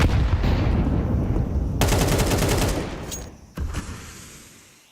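MAC-10 submachine guns in Counter-Strike spit rapid automatic bursts during a FaZe pro match at IEM Cologne 2025. Loud, fast crackling fire runs for several seconds, breaks off, then one shorter burst fades away.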